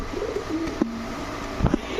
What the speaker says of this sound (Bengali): এখন দেখাবো এক জোড়া লাল পাত্তি কবুতর